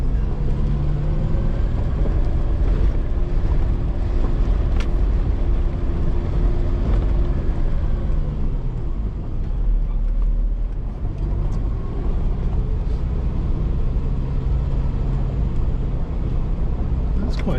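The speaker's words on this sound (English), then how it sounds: "if I let it run out, it's engine braking on 2" A car engine braking in second gear down a long steep track, with a steady loud droning engine and road rumble running throughout, and a voice speaking over it.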